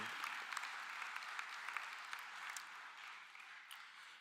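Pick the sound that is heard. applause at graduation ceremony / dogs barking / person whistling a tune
applause at graduation ceremony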